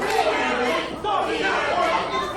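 Wrestling crowd at a Ryse Wrestling event cheering for Phil Marino, a loud, dense roar of voices and shouts filling the hall continuously.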